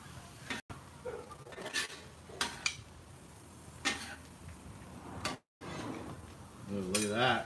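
Beef and broccoli are stirred on a Blackstone flat top griddle. A metal spatula scrapes and clicks against the hot surface in irregular strokes under a steady sizzle, with brief gaps.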